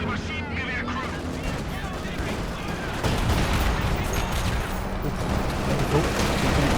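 Machine gun fire and other weapons sounds in Company of Heroes 2 during a 2v2 match, dense battlefield noise running continuously and growing louder halfway through, with a commentator talking over it.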